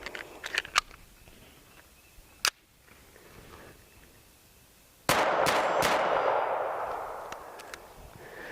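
Walther P22 pistol fired at a steel target plate, with a few scattered sharp cracks and clicks early on, then a cluster of quick loud shots ringing out with a lingering echoing tail.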